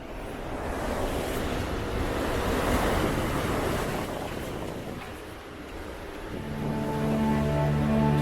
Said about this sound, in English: This is crazy windy.